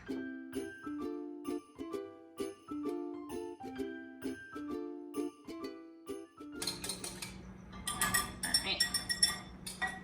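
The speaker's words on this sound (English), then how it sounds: "Add in some vanilla extract, and we're just going to mix everything." A utensil clinks against a bowl while milk and vanilla extract are mixed into French toast batter. Rapid, bright clinks in the latter half follow steady music.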